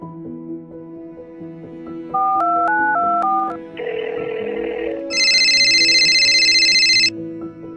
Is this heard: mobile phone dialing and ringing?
yes